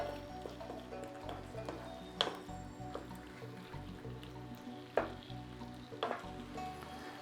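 Curry paste frying with coconut milk in a pan for Thai yellow chicken curry, a steady close sizzle with soft wet stirring and squishing, a few sharper clinks of the spoon against the pan, no talking.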